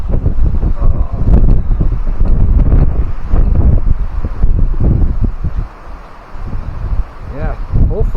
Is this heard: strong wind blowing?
yes